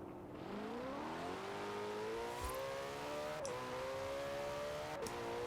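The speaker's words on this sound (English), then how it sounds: "It does sound a bit like the Ferrari V8." Ferrari V8 swapped into an Alfa Romeo Stelvio in Forza Horizon 4, revving steadily with climbing harmonic pitch, two brief gear-shift dips mid-run, loud and continuous with no talk.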